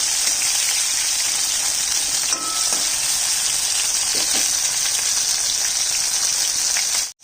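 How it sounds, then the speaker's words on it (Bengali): Prawn fritters sizzle in hot oil in a pan, a dense, steady crackling hiss that carries on unbroken for about seven seconds. "এই মাছটা ভেজে নিচ্ছি ওই তেলের মধ্যে"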